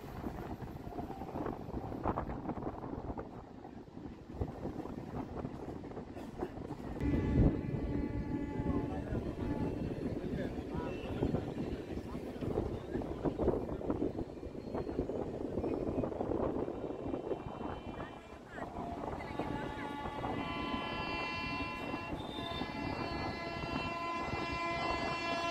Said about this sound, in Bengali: এটা 12809 মুম্বাই CSMT হাওড়া মেল ভায়া নাগপুর।